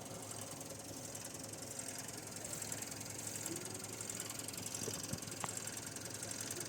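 Nissan Navara engine running on a muddy, steep off-road trail: a faint, steady knocking diesel drone with light mechanical clatter and a few brief thumps, no talk over it.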